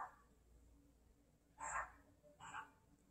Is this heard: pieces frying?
no